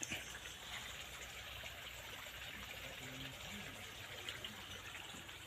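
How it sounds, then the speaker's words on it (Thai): Rainwater flows from an irrigation channel into a fern garden in a rural field, a faint continuous trickling and rushing of water with no speech. "ก็มีน้ำไหลลงมาจากเหมือง เราก็ หนุนน้ำในเหมืองนะครับ เพื่อที่จะเข้าสวนผักกูดเรา"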